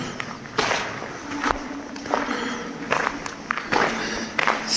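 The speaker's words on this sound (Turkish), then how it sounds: "tok bir ayak sesi duyuyorsunuz." Dull, echoless footsteps inside the Çankırı salt cave, about half a dozen irregular steps at close range, each a soft muffled thud against a low steady background.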